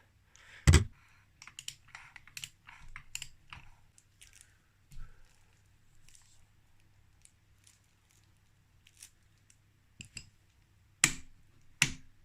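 A torque wrench set to 45 Nm tightens the swinging arm on a Honda CR80 motorcycle. Scattered quiet ratcheting ticks and handling noises lead to a sharp click near the start and a couple of louder clicks near the end, close up against near silence.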